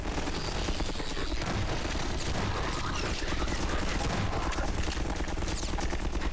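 Gunfire in Half-Life 2, the 2004 video game: dense, continuous bursts of shots and booms at loud level, with no pause across the whole stretch.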